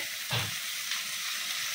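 Leafy greens hit hot oil with fried onions, a sharp burst of sizzling that settles into a steady close frying hiss, with another small flare partway through.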